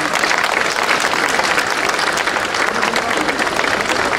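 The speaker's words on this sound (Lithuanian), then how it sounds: "Verti prezidentai šito aplodismento." A large crowd claps steadily and loudly for the presidents at the 2024 Lithuanian Song Festival on World Lithuanians' Day, a dense, unbroken wash of applause throughout.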